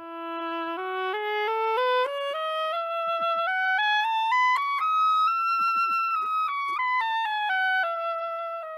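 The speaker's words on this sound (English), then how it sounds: "So let's firstly listen to the oboe," Classical-era oboe playing a solo melody of clear sustained notes, rising stepwise through a scale then settling lower, bright and reedy, alone with no talk.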